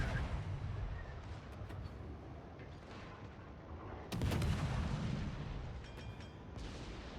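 Naval gunfire in World of Warships: continuous rumbling battle noise with a heavy, booming salvo burst around the midpoint, sustained and fairly loud, with no talk.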